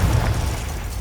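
A fire-blasting explosion spell goes off in Hogwarts Legacy, a loud, dense burst with a low rumble at the start that quickly settles into a fading crackling wash.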